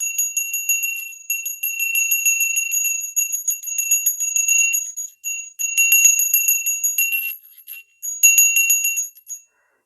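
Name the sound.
bell ringing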